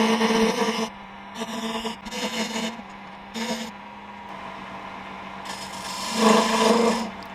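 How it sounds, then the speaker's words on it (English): A wooden tool handle spins on a short lathe as a cutting tool is applied in repeated short passes, producing a steady hum broken by scraping, rasping bursts, close and fairly quiet. "I'm turning this section down to 15/16 of an inch for the ferrule."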